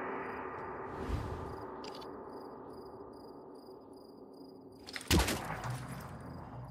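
Blind shots fired in the Phoenix Point video game, heard as a sharp, loud burst of gunfire near the end, earlier softer thuds over a steady background hum.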